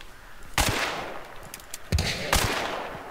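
Suppressing gunfire in the Hunt: Showdown game: several loud, sharp gunshot bursts spaced about a second apart, each with a rolling echo tail over a low ambient bed.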